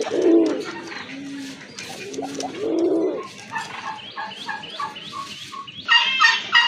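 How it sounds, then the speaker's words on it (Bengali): Domestic pigeons, desi raj golla and large payra, coo in several deep, rounded, rolling calls up close, followed by lighter, higher chattering bird calls toward the end, with no talk. "এখানে দুইটা মাদি কবুতর আছে"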